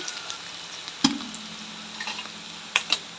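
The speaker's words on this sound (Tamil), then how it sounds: "இப்போ நல்லா வெங்காயம் வதங்கிடுச்சு" Onions sauté in a pan for a tomato kurma, a faint steady hiss with a couple of sharp clinks of a utensil against the pan, no voices.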